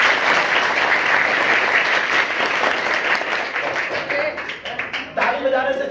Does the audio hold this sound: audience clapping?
yes